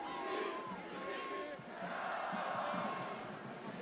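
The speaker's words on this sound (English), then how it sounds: "Their fans aren't going to stop cheering." Rugby supporters of Vannes and Provence roar steadily throughout a packed stadium at the Pro D2 final, a dense, continuous wash of crowd noise with a distant whistle-like tone near the start and no pauses.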